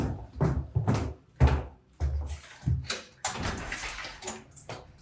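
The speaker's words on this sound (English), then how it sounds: "French door." A French door opens onto the deck of a luxury Las Vegas townhome, making a series of close thuds, clunks and rattles, with some rustling noise toward the end.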